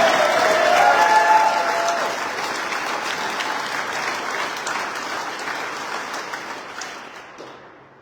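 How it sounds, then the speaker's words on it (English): A crowd at a landowners' gathering demanding eminent domain reform bursts into sustained applause, loud at first and then tapering off over several seconds. "I want you all to give yourselves a big round of applause"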